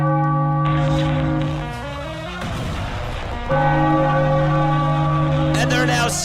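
Victory bell rings out after a Phillies win over the Blue Jays, loud sustained tonal peals with layered harmonics over crowd and broadcast noise, a brief dip mid-clip before the ringing swells again.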